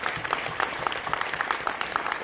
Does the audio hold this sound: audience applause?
yes